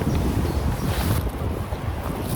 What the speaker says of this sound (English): As you can see, guys, the wind's coming from all directions.